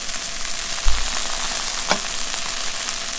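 White fish fillet searing in a hot pan, a steady soft sizzle with a low thump from the pan and a brief scrape partway through, no talking.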